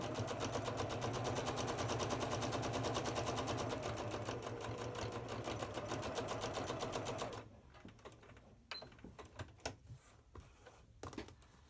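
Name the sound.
sewing machine stitching quilt block along marked line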